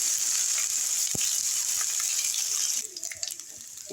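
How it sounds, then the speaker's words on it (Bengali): Cumin seeds, three dry red chillies and bay leaf sizzle in hot oil while tempering chana dal. A bright, steady hiss fills the first few seconds, then drops away to faint crackles and light clicks. "3টে শুকনো লঙ্কা দিয়ে দিয়েছি, তেজপাতা দিয়ে দিলাম, এর মধ্যে জিরে ফোড়ন দিয়ে দিলাম"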